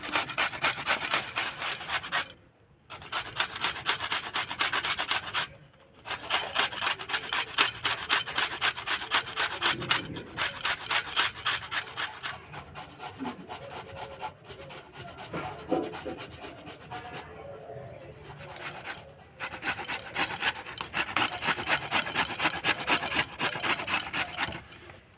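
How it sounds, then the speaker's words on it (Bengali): Raw potato rubbed over the fine holes of a grater in fast, steady rasping strokes, close and loud, broken by a few brief pauses. "এটা দিয়ে গ্রেট করতে হবে"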